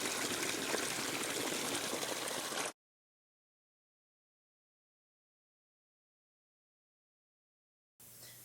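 Water runs steadily down a sloped stream table, eroding sediment into a miniature canyon with collapsing banks; a continuous close rushing trickle fills the first few seconds, then silence, then the flow returns briefly at the end.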